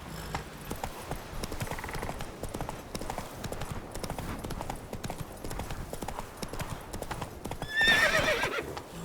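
Hoofbeats of Roach, the horse in The Witcher 3 game, galloping on a Skellige path, a steady rapid clip-clop rhythm close by, ending in a louder burst with a whinny near the end.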